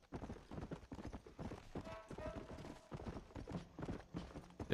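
Horse hooves clip-clop steadily on the ground in the Red Dead Redemption video game, a moderately loud, rhythmic gallop over a faint game soundscape.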